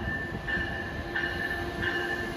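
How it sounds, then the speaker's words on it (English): A train rumbles into Route 128 station, wheels grinding steadily, with a thin metallic squeal rising three times over the continuous low roar. "Train approaching. Please remain behind the yellow line."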